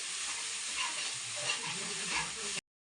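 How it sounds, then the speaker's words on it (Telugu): Green chilli masala paste with coriander paste is stirred in a pan on the stove, giving a continuous soft sizzle with scraping stir strokes that stop abruptly at the end. "అది మొత్తం బాగా అంతా పచ్చిమిరపకాయ పేస్ట్లో మిక్స్ అయ్యేలాగా బాగా కలుపుకోవాలి"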